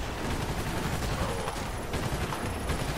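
Steady, dense rattle of gunfire from a weapon in the video game Prototype, continuous and fairly loud through the whole stretch without pauses, with no voices over it.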